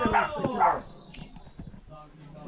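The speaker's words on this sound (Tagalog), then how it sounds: "Mga aso." Dogs give a couple of short barks and yips up close at the start, with quieter whimpering noises after, as people talk nearby.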